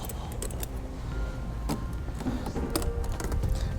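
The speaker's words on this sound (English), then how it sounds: "you just want to evenly hook these on around the tire chain" Metal tensioner hooks being clipped onto a Glacier cable snow tire chain on a 2015 Mazda CX-9, giving scattered light metallic clinks and jangles at close range over a low steady background rumble.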